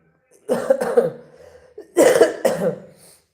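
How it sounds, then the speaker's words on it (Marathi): Two bursts of harsh, close coughing, each a quick pair of coughs, separated by a short pause. "खोकला आहे जरा"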